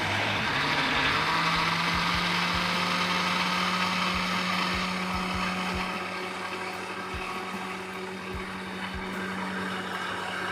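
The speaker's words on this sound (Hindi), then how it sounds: "अब इसे ग्राइंड कर लेंगे।" Electric blender grinding melon with sugar and milk into a milkshake, a loud steady whirring motor hum that runs throughout without any talk.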